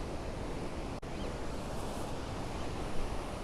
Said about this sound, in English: you can also see the ocean waves as they approach